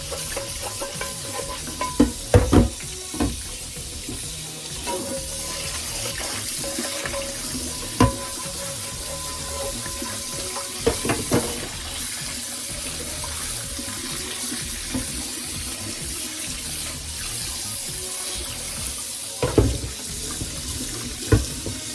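Tap water runs steadily into a sauce-stained pan in a kitchen sink while it is scrubbed, a constant rushing hiss broken by occasional knocks and scrapes of the pan.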